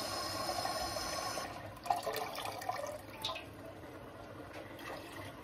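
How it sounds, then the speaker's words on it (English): Liquid poured into a stew pot over a high fire, a steady splashing wash of water that gradually settles into a softer trickle and bubbling, close by with no talking. "We're just gonna add some liquid just to cover"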